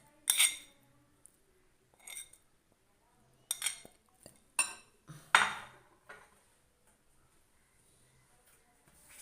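Leftover vegetables from an earlier masala being transferred into a bowl, heard as a few separate bursts of clinking and scraping with quiet pauses between them.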